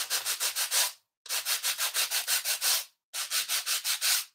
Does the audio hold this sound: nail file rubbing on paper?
yes